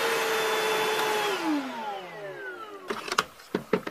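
A Milwaukee M18 Packout vacuum running on a 4 amp-hour DeWalt battery whines steadily at full speed, then its motor pitch slides down as it spins down, followed by a few sharp clicks and knocks near the end.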